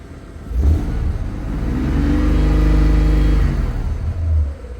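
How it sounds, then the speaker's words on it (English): A car engine misfiring from a failing ignition coil idles and revs with an uneven, stumbling rhythm, rising to a steady drone before easing off; close and fairly loud. "That sounds like a coil miss."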